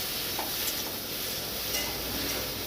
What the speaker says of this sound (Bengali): ঢেঁড়স ভাজাও হয়ে মানে অনেকটা হয়ে গেছে আর একটু ভাজা ভাজা করলেই ঢেঁড়স ভাজাটা নামিয়ে দেবো